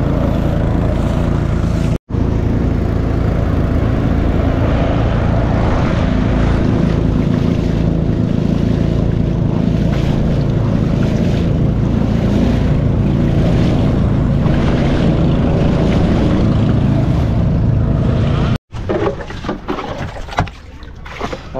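A motorboat on Kerala backwaters near Vembanad Lake runs loud and steady, with continuous engine drone and water wash for about twenty seconds. There is a short break near the start and a change near the end.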